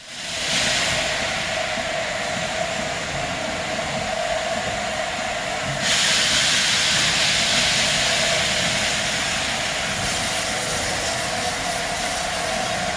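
A4 Pacific Sir Nigel Gresley and a BR Standard Class 7 Britannia, double-heading at a steam gala station, give off a loud, continuous hiss of steam that steps up partway through and carries on without pause.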